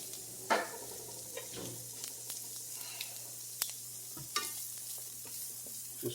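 Half a small onion sautés in a pan, a soft, low sizzle with scattered clicks and scrapes of stirring, fairly quiet and close with no talking.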